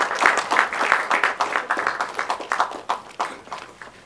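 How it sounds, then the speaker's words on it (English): Audience applause at a film trailer launch with a cricket star on stage, a lively burst of many hands clapping with a fluttering, uneven rhythm that slowly tapers off, with no speech over it. "A big applause."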